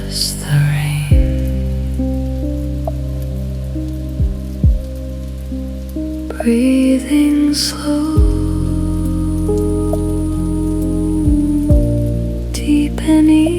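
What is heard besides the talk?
rain falling at night in Tokyo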